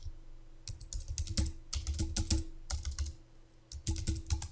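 Rapid bursts of typing on a computer keyboard while setting up software on a Windows server, clustered key clicks in several runs with brief pauses between them, close and fairly quiet, no talking.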